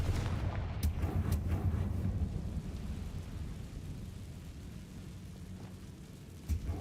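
A fiery Confringo blast spell cast in the video game Hogwarts Legacy: a loud, booming explosive burst that rolls on as a sustained rumbling roar, with a sharp crack near the end.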